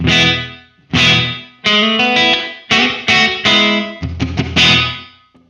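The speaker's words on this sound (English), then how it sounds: "this is the reverb decay, or how long the reverb is ringing out." Close electric guitar chords are strummed in short bursts through a Boss RV-5 digital reverb pedal set to minimum decay, each one cut off quickly with only a brief tail of reverb, and no one speaks.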